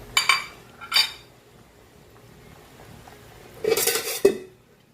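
A spoon scraping and clinking against a metal pot of boiling soup with pasta and carrots in a few short bursts, with quiet gaps between.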